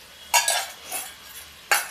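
Radish greens and sweet corn are sautéed in a pan, with a few brief metallic clinks and scrapes of a spoon against the pan and a faint sizzle between them.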